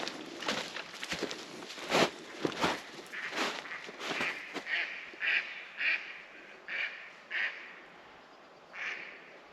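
Ducks quack in a series of short, loud calls, some close and some overlapping, with a few scuffling steps early on.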